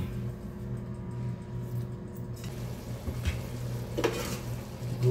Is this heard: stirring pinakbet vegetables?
yes